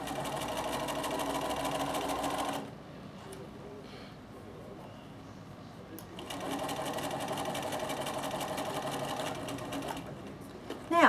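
Bernina sewing machine running steadily while stitching a topstitch line, a close, continuous mechanical whir that pauses briefly midway then resumes.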